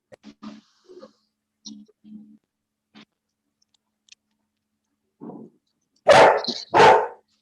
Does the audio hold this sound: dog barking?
yes